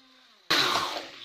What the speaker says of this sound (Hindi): और अब हम लोग इसको हैंड ब्लेंडर से चलाएंगे।